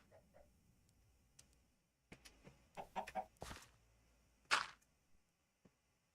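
A chicken in the video game Minecraft clucks in a short run of soft, close squawks and clucks, with one louder cluck near the end and quiet pauses around them.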